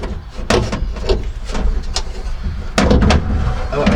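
Vauxhall Vivaro van sliding door latch being handled during a repair, a series of sharp metallic clicks, clunks and rattles with a louder knock near the end, close up and irregular.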